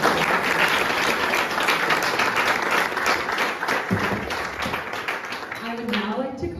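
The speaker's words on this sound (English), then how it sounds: "So can we get a round of applause for those?" Sustained applause from an audience at the inauguration ceremony of a Khalsa Aid warehouse office in Winnipeg, steady dense clapping that fills the room and fades toward the end as a voice starts to speak.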